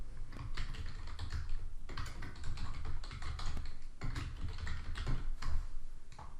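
Rapid typing on a computer keyboard while a business name is entered into a booking calendar setup, a dense, steady run of close keystrokes with no speech.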